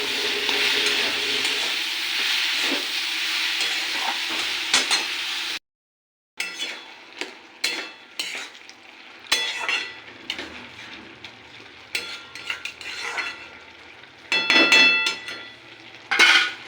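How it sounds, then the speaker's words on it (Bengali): Ridge gourd and prawns fry in a pan: a loud sizzle at first, then a brief silence and repeated stirring scrapes and utensil clinks. "এবার ঝিঙেগুলো অ্যাড করে দেবো।"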